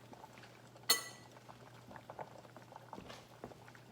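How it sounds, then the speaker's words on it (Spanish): Tomatoes and chiles boiling in a pot, soft bubbling and popping close by, with one sharp metallic clink near the start and a few light knocks, otherwise quiet and without talk. "Aquí yo puse a hervir, a cocinar los jitomates con los chiles."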